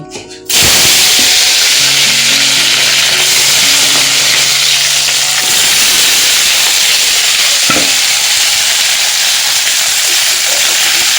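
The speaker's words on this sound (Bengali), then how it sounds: "তাহলে কাঁঠাল হচ্ছে ভেজে নেব" Young jackfruit fries in hot oil in a wok, giving a loud, steady sizzle that goes on throughout, with a few stirring scrapes and clatters.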